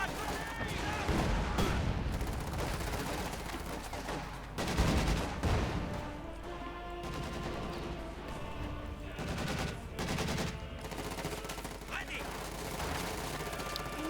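Bursts of gunfire, artillery blasts and machine-gun rattles fill a Company of Heroes 2 1v1 match between Soviet and OKW forces, with Puma and Sherman tanks, explosions rolling loudly and continuously throughout.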